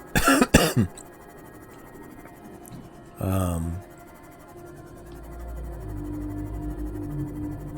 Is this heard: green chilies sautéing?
no